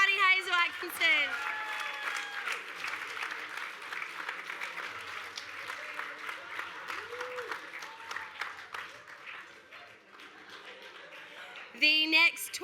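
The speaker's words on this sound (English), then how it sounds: "Big round of applause for Auntie Hazel Atkinson." Audience applause at the 2023 Victorian Aboriginal Honour Roll ceremony, a steady roomful of clapping that runs on for several seconds, with voices and a few cheers mixed in and a louder burst near the end.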